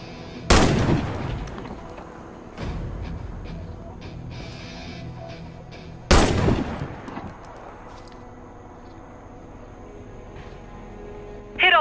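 Two loud sniper rifle shots crack out in the Warface video game, several seconds apart, each followed by a ringing decay over a low ambient hum.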